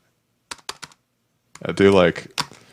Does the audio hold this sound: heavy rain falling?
no